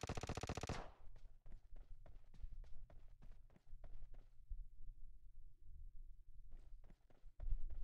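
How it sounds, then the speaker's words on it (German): Gunfire in PUBG Mobile: a loud, dense opening blast followed by a steady run of sharp, rapid shots and footstep-like thuds, pausing briefly before a few more cracks, with no talking. "Ich habe gerade versehentlich geschossen."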